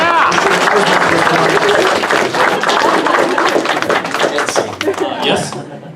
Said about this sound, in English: Yeah, you should applaud.